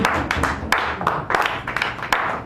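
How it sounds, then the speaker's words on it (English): An audience at an open mic poetry night in a San Francisco café bursts into a short round of applause, dense and steady clapping filling the room with no talk over it. "give yourself a round of applause if you're here"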